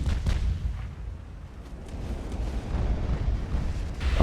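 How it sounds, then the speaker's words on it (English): Heavy 17-inch naval guns fire in the Ultimate Admiral: Dreadnoughts naval warfare game, a continuous rumbling barrage of deep booms rolling under steady low noise, with no voices. "They're using 17-inch guns on that."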